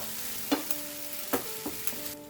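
Ginger garlic paste frying in a pan, a soft continuous sizzle with a few sharp spoon taps and scrapes at irregular intervals, close and fairly quiet, with no talking.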